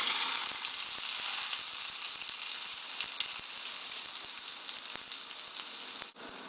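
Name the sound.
pambazo frying in hot oil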